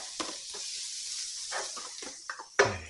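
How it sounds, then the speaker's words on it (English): Finely chopped onions dropped into a hot pan for a fish stew, giving a soft steady sizzle with a few scrapes and stirring clatters, and a sharper knock near the end. "just whack the onions in there"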